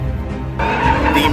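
A Dodge Demon spins its tires at an airstrip, a loud steady engine roar and tire noise that jumps sharply in intensity partway through and holds at a high level.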